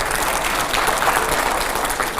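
Steady, loud applause from a studio audience on a television debate show, a dense continuous clatter of many hands that holds evenly throughout.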